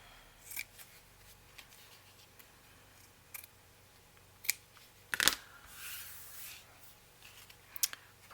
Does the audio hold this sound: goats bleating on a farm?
no